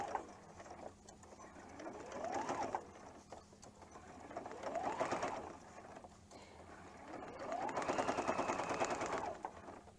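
A sewing machine back-stitches appliqué on a penguin quilt in three bursts of rapid stitching, each rising and falling in pitch as it speeds up and slows, close and with no talk.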